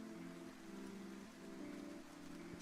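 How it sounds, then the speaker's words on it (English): Steady rain patters in a video game as an even, unbroken wash of drops, with no thunder breaking through and no voices. "Lots of rain."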